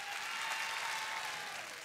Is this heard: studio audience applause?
yes